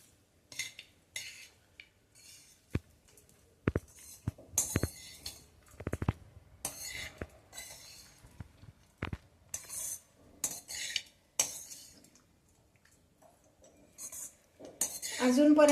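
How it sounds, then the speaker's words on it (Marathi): Cooked rice for chitranna being stirred and mixed in an oiled kadhai, with soft scrapes and clinks of a spoon against the pan in uneven bursts, quiet overall and growing louder near the end. "हे सगळं व्यवस्थित आधी कालवून घ्यायचंय."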